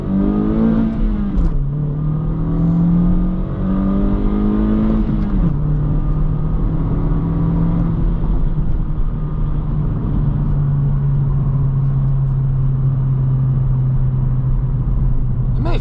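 A 2022-2024 Honda Civic Sport with 2.0 engine and manual gearbox accelerates, its engine note rising and falling through a couple of gear changes, then settling into a steady loud drone.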